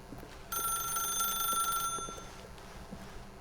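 An old-style telephone rings once in The Stanley Parable, a bright trilling bell lasting over a second before fading out over quiet room tone.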